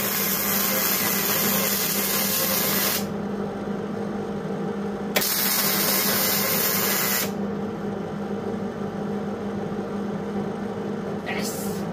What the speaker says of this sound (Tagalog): gagamitan mo lang siya ng drill, turn it on.